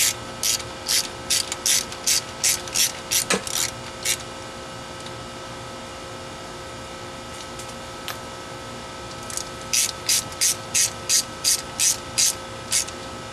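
A socket ratchet clicks in quick rhythmic bursts while tightening intake manifold bolts on a 1972 Nova's small block Chevy, with a pause and a couple of clanks between the two runs of clicking.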